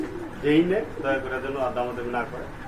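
A pair of pigeons coo softly and briefly beneath someone talking close by.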